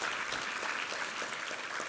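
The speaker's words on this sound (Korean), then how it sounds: "우리 하나님께 감사와 영광의 박수 올려드리겠습니다." A church congregation claps together at a Sunday service, steady rhythmic applause from a large gathering heard at moderate distance, even and continuous throughout.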